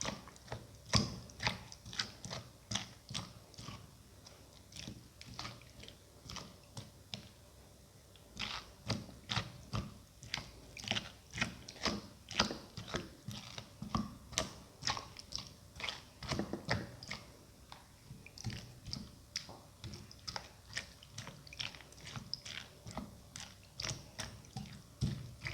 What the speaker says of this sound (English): Crush the bigger pieces into smaller, smooth